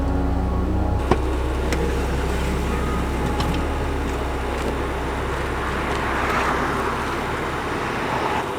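A four-wheel drive van rolls along a road after crossing a land bridge in Acadia National Park, Maine, giving a steady low engine and tyre rumble with faint road hiss throughout and one brief knock near the start.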